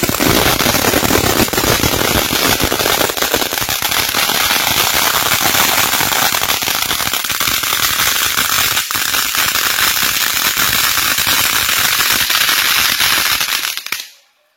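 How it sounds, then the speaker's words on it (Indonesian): Cassandra Magical fountain firework spraying continuously at close range during a festive night, a loud dense hiss with sharp crackling pops throughout that cuts off abruptly near the end. "mercon air mancur Cassandra Magical"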